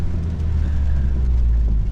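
Low, steady engine rumble from a manual Lotus Emira V6 on the move, with its exhaust burbling beneath a continuous close drone and no voices.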